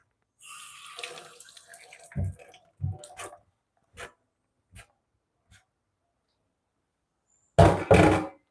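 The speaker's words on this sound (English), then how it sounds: "Next, I'm going to give it a rinse." Tap water runs in a sink to rinse something, with a few knocks and thunks of items against the basin, then a short loud final splash.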